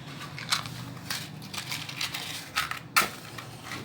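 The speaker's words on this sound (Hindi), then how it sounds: "प्याज जो है वो फ्राई होना स्टार्ट हो गई है" Finely chopped onion fries in a pan with a quiet, irregular crackle and a few sharper pops close by.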